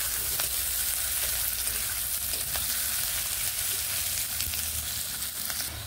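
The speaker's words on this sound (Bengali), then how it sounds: "এইভাবে নেড়ে পেঁয়াজগুলোকে ব্রাউন করে, হালকা ব্রাউন করে আমি ভেজে নেব।" Onions frying in oil and being stirred toward light brown for a beans dish, a dense even hiss of sizzling with occasional soft scrapes, steady and close with no voices.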